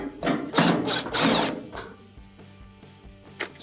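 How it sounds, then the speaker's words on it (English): Metal screws are backed out of a GE clothes dryer's top panel with a Phillips bit on a power driver, giving loud ratcheting whirs in the first half, then quieter clicks and a final brief burst, with no talk. "to remove the top, you will have to remove these 3 screws here"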